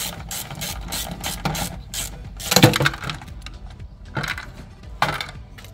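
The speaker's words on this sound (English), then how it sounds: "So just remove these 3 13mm bolts and go ahead and pull this light out." A hand ratchet clicks as it backs out three 13mm bolts holding a rear light on a Jeep LJ, with bursts of close, rapid pawl ticking and a few sharper metallic clanks, no voices.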